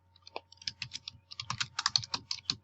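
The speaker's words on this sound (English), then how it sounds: "Oh no, I'm typing in white." Fast, uneven typing on a computer keyboard while entering a name, a run of close, crisp key clicks in bursts with no talk.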